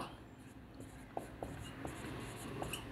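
A teacher writes a sentence during an English class, with faint scratchy strokes and a few soft taps against a quiet room.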